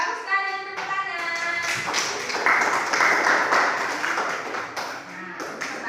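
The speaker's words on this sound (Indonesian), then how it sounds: "Iya, bagus sekali, tepuk tangan." A school class applauds, a burst of children's clapping that swells and holds for several seconds, with kids' voices mixed in and a voice speaking just before.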